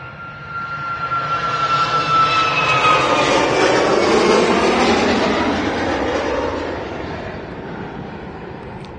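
A Boeing 737 MAX jet departing Manchester Airport, its engine roar swelling from a distance to a loud, broad rumble overhead and then fading slowly as it climbs away, with no voices.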